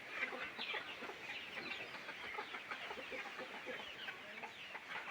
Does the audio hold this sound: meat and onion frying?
no